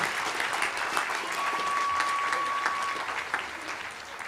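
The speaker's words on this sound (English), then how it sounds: "You may now applaud these graduates." A commencement audience applauds graduates at an undergraduate ceremony, steady dense clapping filling the hall from start to finish at an even, moderate level.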